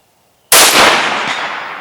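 A single loud, close 6.5 Grendel deer rifle shot cracks out sharply after a moment of silence, then its echo rolls away and fades over more than a second.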